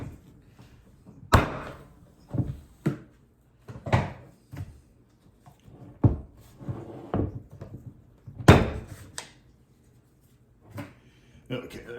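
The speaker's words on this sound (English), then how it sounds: "there's the clamps off" Clamps come off a Kydex holster mold as a series of sharp, irregular knocks and clacks, close by, spread out with quiet gaps between them.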